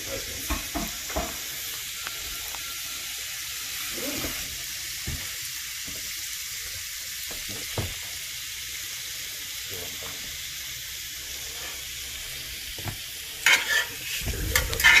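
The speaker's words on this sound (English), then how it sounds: "Stir that up a little bit." Blackened shrimp and asparagus fry in a pan with a continuous low sizzle, broken by intermittent scraping stir strokes and a louder clatter of the utensil near the end; no one speaks.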